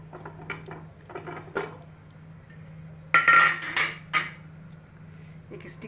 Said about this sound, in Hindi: कुकर का ढक्कन खोल के हमें एक बार चेक कर लेना है।